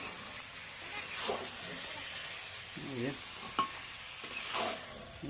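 Meat curry with potato being stirred in a pan in a home kitchen, a soft sizzle with scraping stir strokes and a light clink of utensils, faint and close.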